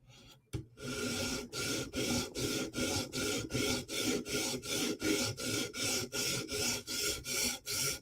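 A sharpening stone rubs in even, rhythmic strokes along the edge of a Chris Reeve Umnumzaan tanto knife, about two per second, close and steady after a single opening tap.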